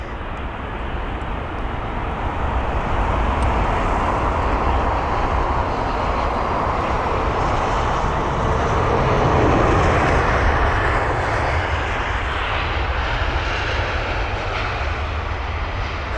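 An Airbus A319 at London Heathrow gives a steady, loud jet roar that swells gently near the middle and holds for about sixteen seconds, with no voices over it.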